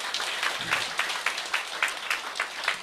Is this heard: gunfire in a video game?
no